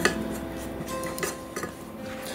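Gelatin being mixed in a bowl, a continuous quiet scrape and clink of a utensil against the bowl with a few light taps, close by and with no talking.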